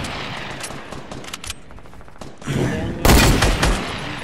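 Bursts of gunfire in the Fortnite battle royale video game, sporadic shots building to a louder, dense volley near the end, with a voice talking over it.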